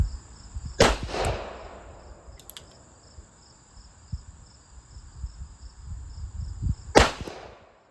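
Two sharp .38 Special revolver shots with 158 grain loads ring out loud and close, several seconds apart, over a quiet outdoor bed of steady insect chirping.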